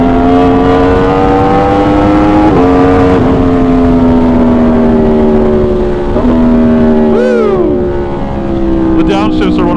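An Aprilia motorcycle engine drones loudly and steadily while being ridden on a hot day, its pitch stepping up and down with gear changes, with brief squealing sweeps near the end.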